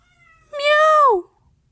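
A cat gives a single loud, close meow lasting under a second, falling in pitch at the end, with quiet around it.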